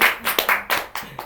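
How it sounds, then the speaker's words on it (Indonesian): Clapping from a small studio audience on a podcast set, a handful of distinct, close hand claps in an uneven rhythm over about a second. "tepuk tangan yang meriah untuk Umi ini"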